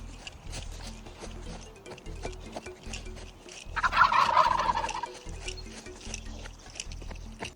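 A flock of wild turkeys gobbles in a loud burst midway through, over steady outdoor rumble and rhythmic thumping footsteps.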